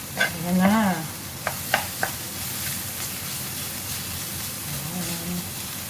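Chili and garlic sizzling in a little preheated oil while being stirred, a steady frying hiss with a few sharp utensil scrapes and taps against the pan near the start, then a softer continuous sizzle.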